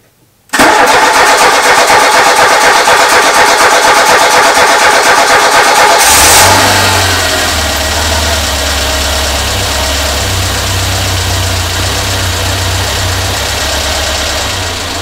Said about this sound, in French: on met le contact, le starter et on démarre